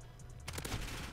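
A sniper shot cracks out in a video game after a quiet stretch, a sharp report followed by a burst of echoing gunfire.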